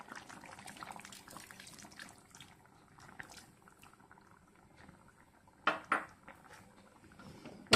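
Coconut milk poured into a boiling Kerala fish molee curry: a soft, steady bubbling simmer with light pan clinks, then a couple of louder splashing pours near the end, no voices.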